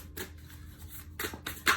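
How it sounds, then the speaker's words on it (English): Muse Tarot cards are shuffled in short papery bursts with soft riffling and a few sharper slaps near the end, heard up close and fairly quiet, with no talking. "we're going to shuffle the Muse Tarot and see"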